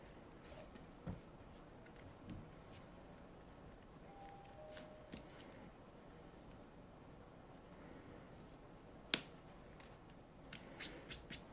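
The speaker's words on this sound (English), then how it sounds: "I like to trim my jumps as I go along. So where are my jump scissors?" Small scissors snip jump stitches on a machine embroidery in-the-hoop zip bag project, giving faint, sparse clicks and snips scattered over quiet handling noise with no voices.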